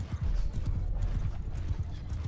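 Horses gallop across a battlefield in Bannerlord, a dense, continuous drumming of many hooves close up, with occasional faint neighs mixed into the rumble.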